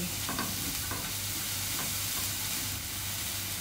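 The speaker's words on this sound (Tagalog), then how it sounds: "stir fry" Shredded cabbage and egg are stir-fried in a hot pan, giving a constant loud sizzle broken by a few scraping, tossing strokes of the utensil, with no voice.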